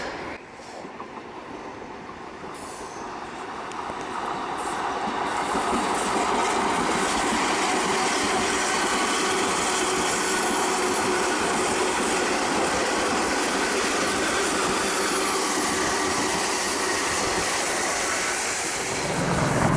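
A train rumbles past nearby, a steady dense roar of wheels and rail noise that builds early and holds loud throughout.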